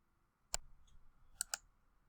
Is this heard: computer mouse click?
yes